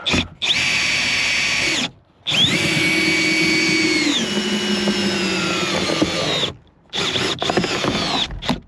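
A battery-powered cutting tool whines loudly up close in long bursts while cutting on a 2020 Subaru Outback, its pitch sagging under load as the battery runs low, with short pauses between runs.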